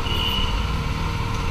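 Busy street traffic in an office area outside a motorcycle service centre, a steady near rumble of trucks and vehicles with a faint beeping tone over it.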